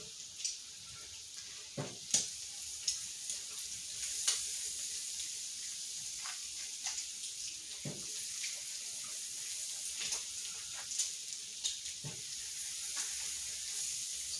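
Smash burgers sizzle steadily on a warming griddle, with bacon cooking alongside, a constant crackling hiss broken by occasional sharper pops and scraping stirs at close range.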